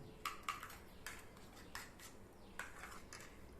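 Eggs being beaten with chopped mushroom, onion and green chili for a mushroom omelette, heard as sharp, irregular clinks of a utensil against a bowl, several quick strikes at fairly close range and low level with no talk.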